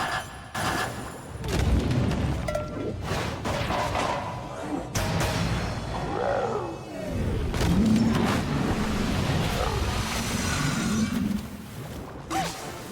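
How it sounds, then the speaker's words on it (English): Incoming artillery in the video game Epic Mickey 2, heavy booms and crashing impacts arriving in bursts with rumbling debris, loud and close, mixed with game effects and voices. "Incoming artillery!"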